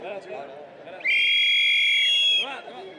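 A loud, steady whistle blast rings out for over a second, shrill and sustained, with people talking before and after it.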